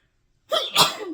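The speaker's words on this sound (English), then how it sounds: "So I stirred up dust, and now it's making me sneeze." A single close, sharp sneeze, set off by stirred-up dust, bursts out of silence, with a brief intake followed by the explosive release.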